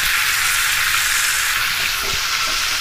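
Chicken pieces frying in hot oil for tandoori chicken, a steady, loud, dense hiss of sizzling fat filling the whole stretch, close by and without talk.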